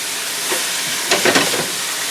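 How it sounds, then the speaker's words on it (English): Spanish olives and sliced Kalamata olives sautéing in a pan, a steady soft sizzle with a few brief stirring scrapes and bursts near the middle. "And you saute those for a while."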